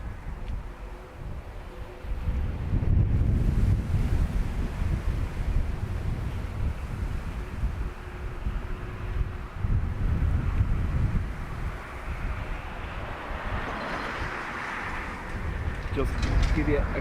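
Crosswind gusting across an airport during live plane spotting at Dublin Airport, a loud, continuous rushing roar of wind buffeting the microphone that swells and eases over the whole stretch.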